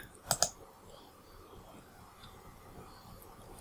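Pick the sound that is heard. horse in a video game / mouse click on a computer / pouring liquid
mouse click on a computer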